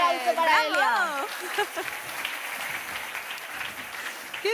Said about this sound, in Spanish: Un aplauso para Elia.